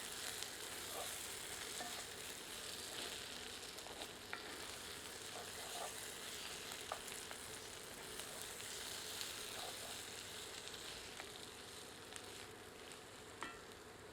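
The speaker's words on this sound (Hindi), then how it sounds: "एक बार अच्छी तरह करछी चलाते हैं।" Steady low sizzling of dry mushroom curry cooking in a pan over low heat, with occasional soft scrapes and taps of a ladle stirring, continuous and close.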